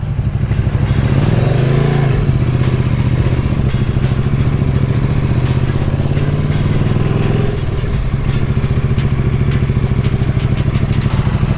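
A KTM motorcycle engine runs loud and close throughout, its steady mid-pitched drone rising briefly as the bike revs, with faint clatter over the top and no talking.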